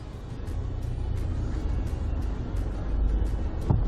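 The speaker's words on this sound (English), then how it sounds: "And now we are off, and then at this point the car is going to keep giving itself some throttle." Nissan Navara engine crawling off-road in four-wheel-drive low range and first gear, a low, steady rumble under light throttle with a brief rise near the end.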